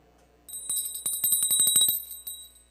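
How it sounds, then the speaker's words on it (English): Small ritual hand bell, a ghanta, rung rapidly during a puja, a bright ringing burst of quick strikes lasting over a second, close and clear, with no speech. "the bell"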